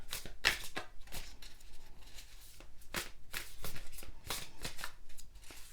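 Tarot cards are shuffled by hand in quick, close riffling bursts, several separate flurries of crisp papery slapping with short gaps between them.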